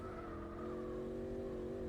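Engine of a modded car in the racing game Gran Turismo 4 Spec II, a steady sustained drone with tonal harmonics holding nearly constant pitch, loud and continuous with no talk over it.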